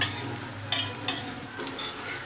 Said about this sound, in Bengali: রসুনটা আমি বাটারের মধ্যে খুব ভালো করে ভেজে নিয়েছি